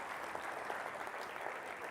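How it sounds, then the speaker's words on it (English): An audience at a hypnosis show claps for volunteers on stage, a brief steady burst of applause at moderate distance. "Give these folks a round of applause."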